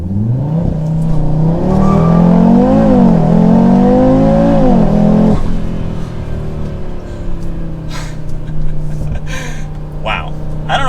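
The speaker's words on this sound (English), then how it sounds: "we can turn that completely off, and we can do launch control" A 2024 Audi RS3 with its five-cylinder engine launches hard under launch control, a loud rising engine note climbing through gears with a sharp shift around midway, then settling into a steady drone under faint background noise.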